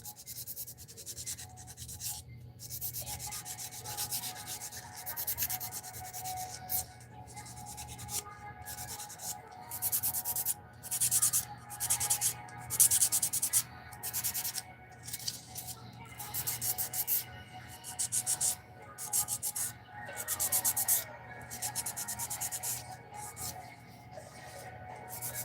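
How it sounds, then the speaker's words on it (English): Electric nail drill filing underneath fingernails, a steady close high whir broken into short repeated bursts as the bit is worked back and forth. "I do have to do under my nails with my drill"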